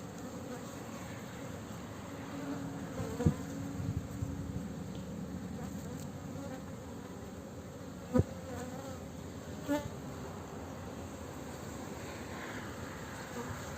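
Honeybees buzz steadily from an opened beehive, a dense continuous hum close by with a few sharp knocks and clicks from handling the frames.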